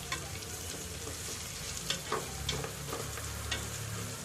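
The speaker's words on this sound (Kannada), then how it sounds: "ಈಗ ಈರುಳ್ಳಿ ಫ್ರೈ ಆಗಿದೆ" Onions frying in a pan for pulao, a steady sizzle with scattered stirring scrapes and clicks, close and moderately loud with no talking.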